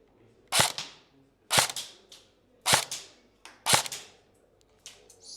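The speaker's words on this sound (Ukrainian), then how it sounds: "Перший постріл буде холостим у нас." Four single shots from an airsoft M4 CM513 rifle, each a sharp snapping crack followed by a short fading tail, spaced about a second apart and heard close up.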